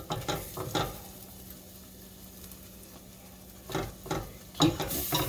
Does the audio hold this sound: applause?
no